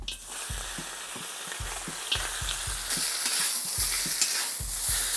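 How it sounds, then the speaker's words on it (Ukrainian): Meat sizzles and crackles in a hot cauldron, frying in rendered pork fat, with a steady frying hiss and recurring soft thumps from stirring. "Витягли сало, смажимо м'ясо."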